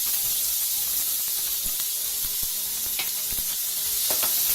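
Chopped onions fry in hot oil with a loud, dense, continuous sizzle and hiss, with a few faint stirring scrapes on top.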